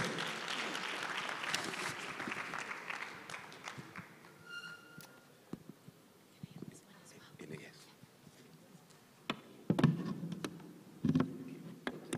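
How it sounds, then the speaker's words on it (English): Applause from a conference audience after a speaker is introduced at an e-learning conference, a broad patter of clapping that swells early and fades over several seconds, with a few murmurs and scattered sharper claps near the end. "A round of applause to Dr. Margaret Korosek."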